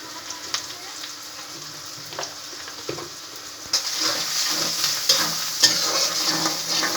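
Chicken coated in turmeric powder is stirred in a frying pan, giving a sizzling, crackling fry with spoon scrapes and clinks that grow louder and busier partway through.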